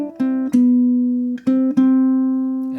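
Low G ukulele fingerpicking a slow phrase of Bach's Bourrée, bar 7, with a few plucked notes and chords, one held long on the third beat, ringing clearly and alone.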